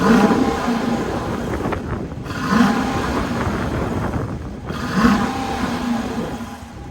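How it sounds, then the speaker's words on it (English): A 2026 Dodge Durango GT's 5.7 liter Hemi V8, mated to an 8-speed automatic and breathing through chrome dual exhausts, blips three times at a steady rhythm, each rev swelling then settling back to a rumbling idle, close and loud. "Let's hear how this V8 sounds."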